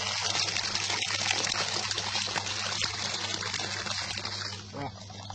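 Water runs from a tap in a house, a continuous splashing trickle at close range that fills the whole stretch and fades slightly near the end, with faint voices in the background.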